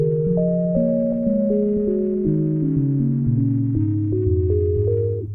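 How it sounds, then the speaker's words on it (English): A tape sample transposed seventeen semitones down on a sampler plays a slow, deep melodic line of sustained, stepping pitches with a buzzing, droning tone, loud and continuous throughout. "and play essentially -17 semitones down, which will sound like this."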